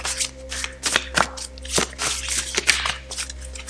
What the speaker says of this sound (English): These ones are a little hard to shuffle.